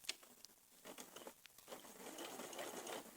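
Domestic sewing machine stitching fabric for baby dungarees at a short stitch length, a quiet, steady mechanical patter running continuously close by with no voices.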